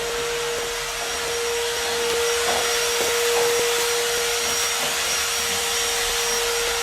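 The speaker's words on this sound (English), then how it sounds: "you hear that? That's the vacuum." A vacuum cleaner runs steadily with a constant whine and broadband hiss during drywall work, holding an even level throughout with a few faint knocks and clatters from the work underneath.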